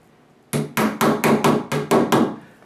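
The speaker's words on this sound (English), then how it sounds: "once you've marked them and you've tapped in the screws or set the screws" A hammer taps screws into a new blank door to set them before hanging the hinge: eight sharp, evenly spaced knocks, close and loud, with no talk.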